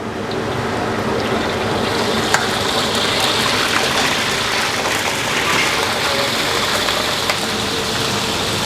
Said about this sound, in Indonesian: Goreng udangnya harus dengan minyak yang sangat panas dan gorengnya cuma sebentar aja ya teman-teman ya.